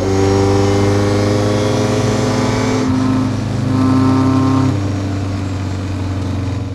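A classic 1980s-era Bentley without power steering or disc brakes drives at a classic car event, its engine droning loudly and steadily with rising revs, a shift midway, then settling into a sustained hum.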